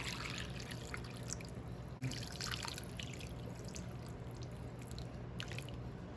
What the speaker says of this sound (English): Now we're going to fill this up with water.